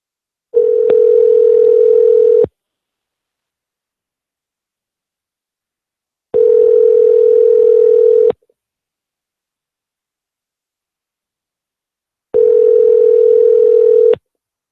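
A telephone ringback tone plays while a call goes through to a voicemail line: three long, steady beeps of about two seconds each, separated by roughly four-second silences, loud and clear with no voices.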